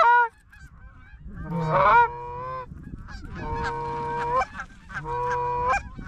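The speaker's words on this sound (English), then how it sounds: "there's a lot of geese" A flock of geese honks during a field hunt, with loud bursts of overlapping calls near and farther away, coming in several waves with short quieter gaps between.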